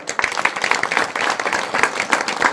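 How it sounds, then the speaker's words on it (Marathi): People at a kirtan gathering in Taparewadi village clap loudly, with irregular hand-claps swelling and dipping over a couple of seconds. "टाळ्या वाजवून त्यांच्यासाठी जोरात."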